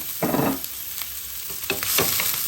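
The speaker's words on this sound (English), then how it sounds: "Let the onions cook." Onions frying in a little oil for peppered gizzard, a close, steady sizzle with occasional stirring scrapes and crackles, no voices.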